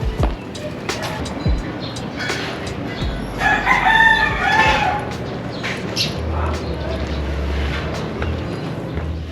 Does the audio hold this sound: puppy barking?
no